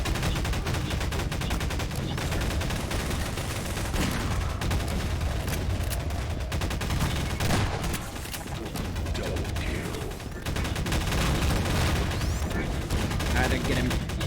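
Sustained gunfire in a Source engine multiplayer shooter, a dense, loud run of shots that stays steady for the whole stretch and dips briefly midway, with voices talking over it.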